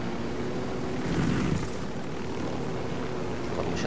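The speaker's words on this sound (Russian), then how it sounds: "вертушка у нас постепенно падает" Steady rotor and engine drone of a helicopter flying in Ghost Recon Wildlands, continuous and fairly close throughout with no talking.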